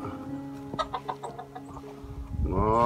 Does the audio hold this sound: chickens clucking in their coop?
yes